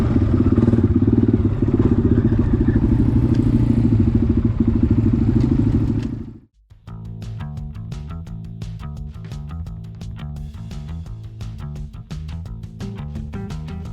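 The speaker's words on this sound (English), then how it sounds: "We've got our machines all warmed up, gassed up, ready to go hit the trail." ATV engines idle and rev steadily before setting off on the Kelly's Pond multi-use OHV trail, a loud continuous engine drone that cuts out briefly, then resumes as a rougher, rhythmic running note.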